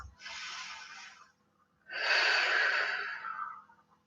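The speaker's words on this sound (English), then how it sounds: "Two more deep breaths." Two deep breaths during a yoga flow, each a long airy inhale or exhale lasting over a second, close and clear with a short quiet gap between them and no talking.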